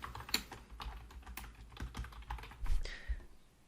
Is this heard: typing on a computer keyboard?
yes